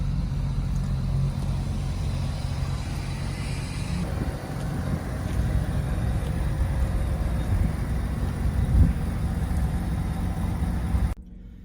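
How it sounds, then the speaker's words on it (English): A car engine idling as it warms up after a compression check, a steady low rumble that holds evenly throughout with slight swells, then cuts off abruptly at the very end. "The car's been warming up, so let's see how it goes."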